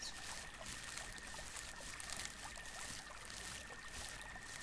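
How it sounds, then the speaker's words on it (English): Gentle creek water trickling in a fantasy ASMR roleplay setting, a soft, faint, continuous watery babble with a thin steady tone running through it, no voices. "So this is the Ivy Creek."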